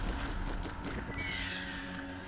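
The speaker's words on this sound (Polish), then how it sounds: "moja postać tutaj ma specjalne umiejętności, takiego ptaszka sobie rzucam" In the video game Borderlands, a character's special skill throws a bird, heard as a couple of crow-like caws over a busy game background, fairly close and alone.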